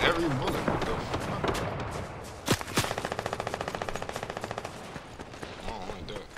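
Gunfire in the Fortnite video game: scattered shots, then a sharp blast followed by a rapid automatic burst of about twenty evenly spaced rounds, with voices talking over it.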